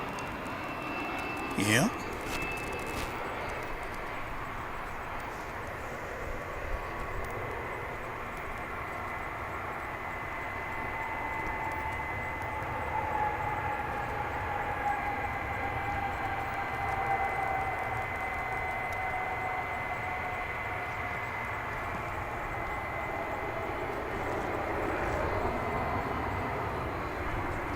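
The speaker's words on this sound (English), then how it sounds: "The parade of UPS jets continues as we welcome, I think, another one." A UPS jet at DFW International Airport drones faintly and steadily from a distance, a low engine rumble that slowly rises and shifts in pitch, with radio chatter and a brief voice over it.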